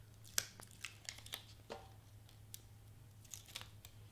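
Tape or a paper label being peeled off a Pringles can during party-favor assembly, heard as a few close, crisp tearing and crinkling bursts, alone and fairly quiet.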